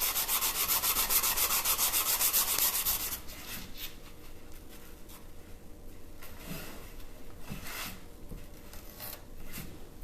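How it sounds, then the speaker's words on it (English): Sanding edges of resin mold on an antique box: loud rapid rhythmic rasping strokes for about three seconds, then quieter intermittent scraping and light handling noises. "we're just sanding off the edges"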